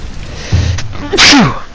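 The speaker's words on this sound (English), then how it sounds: "Just stepped out of the shower and had to sneeze a little bit." A single sharp sneeze close to the microphone, with a quick intake of breath before the explosive burst, over faint background hum.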